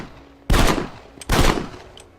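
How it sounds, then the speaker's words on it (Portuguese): Revolver gunshots in the video game Red Dead, two loud sharp blasts about a second apart, each with a short ringing tail, followed by a faint third crack. "John dá 3 tiros em Strange Man pelas costas"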